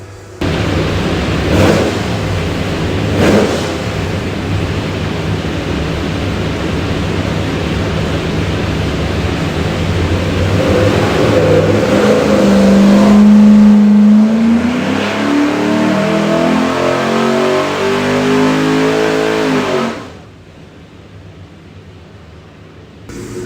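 A Shelby all-aluminum 427ci Ford V8 with GT40 front end and Imperial oil pan, run on a dynamometer: a loud, sustained engine roar climbing steadily in pitch through a full pull, then dropping abruptly as the throttle closes.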